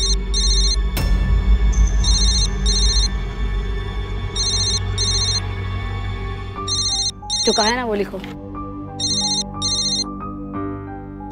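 A telephone ringtone in a Hindi TV drama scene repeats in short bursts of beeping tones throughout, with people talking over it and a warbling electronic sound briefly in the middle.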